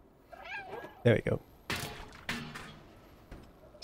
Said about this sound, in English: I need to meow at the right point.